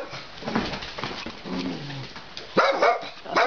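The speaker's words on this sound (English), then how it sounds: "Oh, the world with too many dogs." Several dogs, including a poodle, bark and whimper in a busy home, with sharp barks loudest near the end and softer yelps and cries before.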